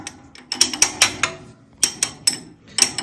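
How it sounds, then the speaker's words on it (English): A small ratchet hammer taps a part into place on a 2022 Bicknell dirt modified race car build, sharp metallic knocks in quick clusters of three or four with short pauses, close and fairly loud. "Get a little hammer here. The good old wrench hammer. Ratchet hammer. Just tap that in a little bit."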